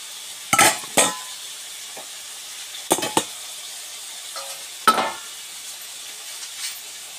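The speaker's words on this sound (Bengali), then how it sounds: "আমি আজকে চিংড়ি মাছটা অত ভাজবো না, মোটামুটি করে অল্প করে নেব, বেশি করব না।" Shrimp frying in a pan with onion and garlic, heard as a few short bursts of sizzling and stirring scrapes separated by quiet gaps, moderately close and without talk.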